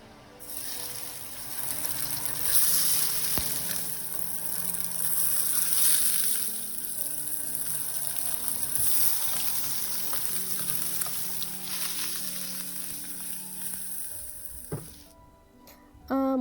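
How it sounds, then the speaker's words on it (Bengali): Three marinated hilsa fish tails fry in a pan of oil, a steady bubbling sizzle with a sharp utensil tap partway through and clattering near the end. "3টা ইলিশ মাছের লেজ ছিল, সেটাকে ভেজে তুলবো আমি"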